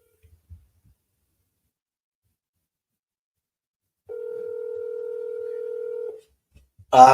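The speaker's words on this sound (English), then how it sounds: "Let's give him a call." Telephone dial tone on a business cold call: near silence, then a steady single tone lasting about two seconds that cuts off, followed by a short burst of sound at the very end.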